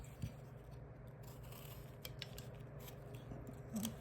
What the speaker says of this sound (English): Come with my knife and remove the material.